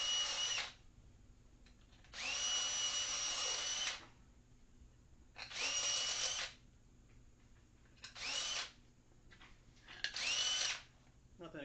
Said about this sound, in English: Nothing a good old Unibit can't fix.